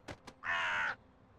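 In the video game Elroy and the Aliens, a bird gives two quick short calls and then one longer harsh caw, a brief sequence that stands alone and sounds fairly close.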